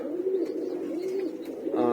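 Pet pigeons coo in a soft, steady low warble that rises and falls for about two seconds, close by, with a brief brighter burst at the end and no talking.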